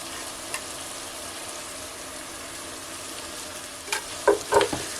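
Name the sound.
stirring orzo and tomato soup in a pot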